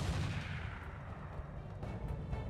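Artillery fire in a video game, a heavy low rumble of distant booms rolling together, with a couple of duller thuds rising out of the steady roar.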